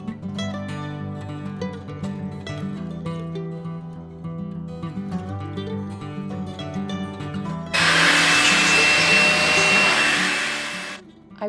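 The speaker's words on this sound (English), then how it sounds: "I removed the chair seats and used this vacuum cleaner to do a little cleanup" Background music plays, then a loud, steady motorized whine of a vacuum cleaner cleaning chairs with their seats removed cuts in for several seconds close by, before stopping.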